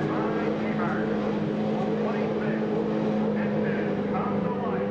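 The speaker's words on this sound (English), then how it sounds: "Gentlemen, start your engines." CART Indy race car engines at the Milwaukee Mile oval in 1999 form a steady, loud droning roar throughout, blended with crowd and broadcast noise.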